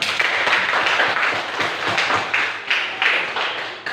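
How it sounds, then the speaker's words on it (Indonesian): Classroom applause from students, a loud, fairly close run of clapping with uneven surges across the whole stretch. "Ini tepuk tangan dulu"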